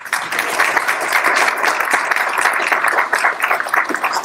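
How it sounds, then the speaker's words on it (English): An audience at a live competition finals gives a loud, sustained round of applause, dense clapping from many people throughout with no speech. "Huge round of applause to Jenny Lamb."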